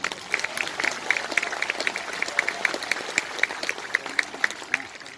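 An audience at a NasDem party national working meeting (Rakernas) claps, a steady run of close, crisp handclaps with distinct individual slaps over a softer crowd wash, and a voice faintly present underneath.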